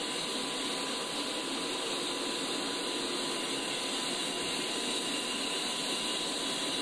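Aircraft auxiliary power unit running in the DCS flight simulator before engine start, a steady, loud, unbroken hissing whine with a faint constant tone and no change in level.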